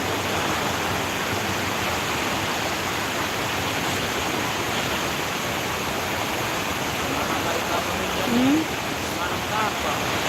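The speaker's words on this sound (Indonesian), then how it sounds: "Ih, hujan kencang." Heavy rain and strong wind roar steadily on a Papua afternoon, a dense continuous wash of noise that stays loud throughout, with a brief faint voice near the end.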